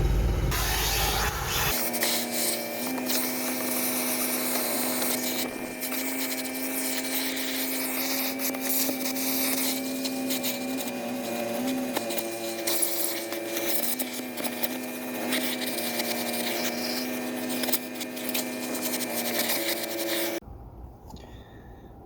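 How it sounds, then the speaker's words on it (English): A hoover runs continuously over the carpets and seats inside an old Ford Fiesta, a loud steady whine with hissing suction that shifts slightly as the nozzle moves, cutting off just before the end. "we'll just go over the carpets and the seats and give them a vacuum"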